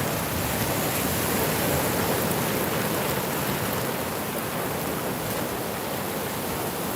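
Atlantic Ocean surf at a beach gives a continuous broadband wash of waves, steady and fairly loud, with no voices.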